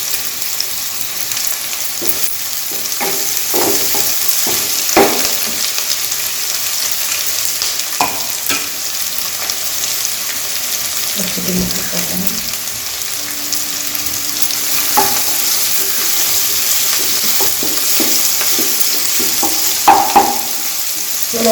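Curry leaves and onion sautéing in a pan for a potato peas curry, a loud continuous sizzle broken by repeated clinks and scrapes of stirring, with no voices.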